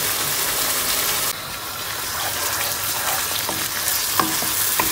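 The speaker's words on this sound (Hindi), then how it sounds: "2 से 3 मिनट के लिए अच्छी तरह भूनना है मसाले को।" Spice masala for Punjabi chicken gravy fries in hot oil with a dense, loud, continuous sizzle, a brief dip partway through and a few faint stirring knocks near the end, no voices.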